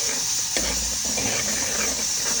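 Goat trotter broth and masala fry in a pan, giving a steady close sizzle with stirring scrapes and a sharp clink near the start, no talking.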